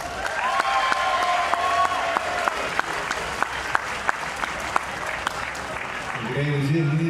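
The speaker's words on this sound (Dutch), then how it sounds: "Groot applaus!" A large crowd applauds at an outdoor city festival concert in Doetinchem, dense clapping sustained throughout with sharp claps standing out, while sustained musical tones ring underneath and voices carry through near the end.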